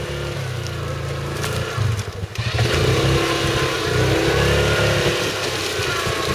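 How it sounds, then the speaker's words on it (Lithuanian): A motorcycle stuck in place revs hard, its mid-pitched engine roar rising and falling, with a brief dip near the middle before it climbs back to a steady strained whine. The machine is close and no one speaks over it. "Koks čia motociklas yra užstrigęs?"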